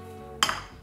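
Butter and breadcrumbs are tossed in a small pan with a wooden spatula: a single brief clatter and scrape of the pan, quickly settling into a low sizzle.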